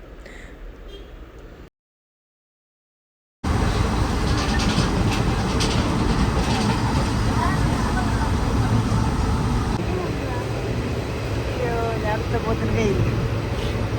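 Steady rumbling train noise on the rails from inside a passenger train, loud and continuous, with a brief silent gap near the start and faint squeals and voices in the background.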